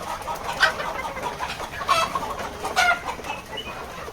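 Hens let out of their house on a poultry farm cluck in bursts, several birds at once at moderate distance, with no voices.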